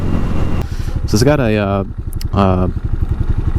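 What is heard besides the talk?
Hawk 250 motorcycle with cheap Chinese racing exhaust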